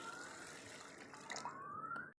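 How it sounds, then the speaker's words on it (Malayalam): Water pours into a bowl of soaking urad dal, a steady close splashing stream that runs briefly on its own and stops abruptly. "നമുക്ക് വെള്ളം ഒഴിച്ച് വയ്ക്കാം."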